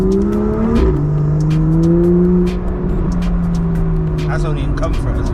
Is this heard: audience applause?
no